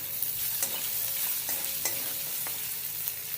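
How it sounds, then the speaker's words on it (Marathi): Potato pieces with turmeric stir-fried in a pan with already-fried chillies, a steady close sizzle broken by several sharp spatula scrapes, no voices. "आता आपण त्यामध्ये हळद टाकूया आणि हा बटाट्याच्या फोडी त्यामध्ये टाकून"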